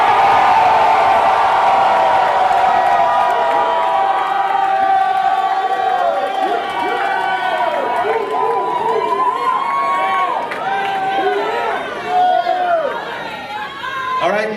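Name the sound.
concert crowd cheering and screaming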